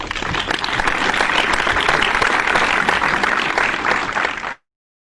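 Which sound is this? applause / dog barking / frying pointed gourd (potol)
applause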